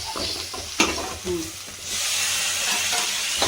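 Chopped onion and tomato sautéing in a pan, a low sizzle with scattered stirring clicks and scrapes that swells into a steady, louder hiss partway through.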